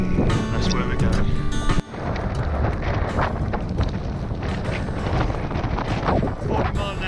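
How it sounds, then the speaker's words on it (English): Strong 40-mile-an-hour gusts buffet the microphone outdoors in the Lake District fells, a loud continuous rumbling roar with surging bursts throughout. "40-mile-an-hour gusts"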